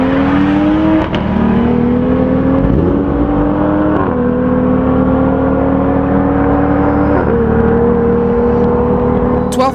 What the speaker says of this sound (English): This BMW M235i runs a pure Stage 2 turbo with port fuel injection, AFE intake, and an Exceed catalyst downpipe attached to an M Performance exhaust